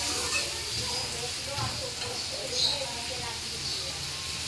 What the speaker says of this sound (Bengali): এর মধ্যে আলুগুলো দিয়ে দেবো।